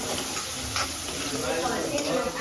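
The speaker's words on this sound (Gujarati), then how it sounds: "તો જો મારી હું વઘાર કરું ને એવી રીતે જ મયુરી વઘાર કર્યો મગના શાકનો." Spices sizzle steadily in hot oil while tempering mung bean curry, a close, continuous crackling hiss with faint voices in the background.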